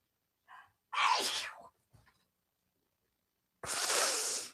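A sharp, close sneeze bursts out after a short intake of breath, followed a few seconds later by another loud burst of noise.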